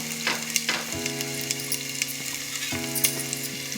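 Steady sizzling of food frying in a pan, with a few soft stirring clinks and a faint tonal hum running underneath.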